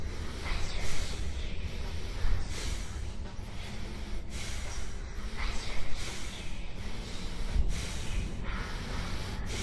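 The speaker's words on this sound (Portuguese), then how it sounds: "Essa respiração pega um pouco também." Close, labored breathing fills a VR escape-room horror game, with a continuous breathy hiss broken by regular sharp intakes roughly every second, steady and unaccompanied by speech.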